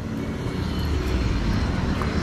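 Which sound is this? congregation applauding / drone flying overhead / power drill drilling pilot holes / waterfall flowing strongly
drone flying overhead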